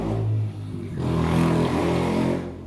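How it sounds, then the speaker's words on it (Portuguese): A motorcycle passes nearby, its engine note building into a throaty mid-range drone that sweeps past and fades over a few seconds, heard alone without talk. "Passou uma moto, né?"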